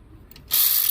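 A ratchet tightening a hose clamp during a radiator replacement on a 2006 Ford F-150 5.4, a brief close, loud burst of rapid clicking after a moment of near silence.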